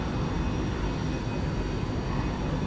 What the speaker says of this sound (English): Rotating, and we have liftoff.